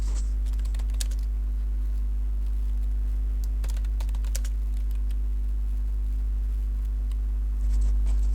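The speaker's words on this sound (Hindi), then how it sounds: "मैं कुछ डाटा यहाँ पर टाइप करने लगा हूँ।" Keys clatter on a computer keyboard as someone types entries into an Excel spreadsheet, bursts of close, light clicks in an irregular rhythm over a steady low electrical hum, with no voices.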